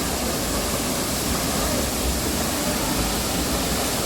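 A steady, dense roar of Soochipara Falls, a 220-metre waterfall in Wayanad, falling water loud and unbroken throughout, with no voices.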